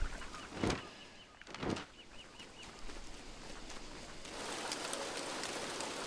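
Video game rain in a DS adventure mode begins as a soft, steady hiss partway through, following a few brief sharp sounds, and continues evenly and faintly to the end.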